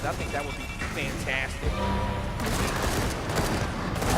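Gears of War gunfire crackles in a rapid fusillade of shots and booms during an esports tournament match, heard under a commentator's talk.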